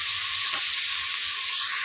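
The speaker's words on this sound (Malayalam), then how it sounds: "സവാളയും തക്കാളിയും. നല്ലോണം ഒന്ന് വഴച്ചി എടുക്കാം." Onions and tomatoes sauté in a pan for chicken curry, giving a loud, steady, close-up sizzle with no pauses or talking.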